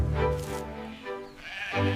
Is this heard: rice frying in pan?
no